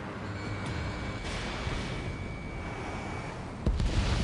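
Explosions and gunfire at a harbor under heavy attack in Ace Combat 7, a continuous rumbling barrage capped by a sharp, louder blast near the end.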